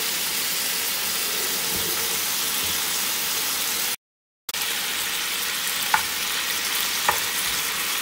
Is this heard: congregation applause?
no